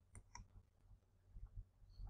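Several soft, close mouse clicks, light and irregular, set against a quiet room background while a submit button is clicked on a Blackboard page.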